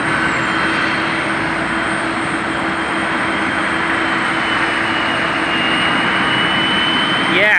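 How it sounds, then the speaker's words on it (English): An Alaska Airlines Boeing 737 MAX 9 arriving from Anchorage on final approach to runway 10 left at Portland airport, a loud, steady jet roar that holds throughout with a constant engine whine and broadband rush. "a whole line of aircraft are on final for runway 10 left, beginning with this one. Alaska 737 MAX 9 in from Anchorage."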